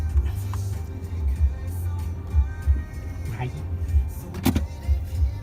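An Isuzu D-Max 1.9 pickup climbs a steep hill with no accelerator pressed, its engine giving a low steady rumble and drone from inside the cab while someone talks throughout.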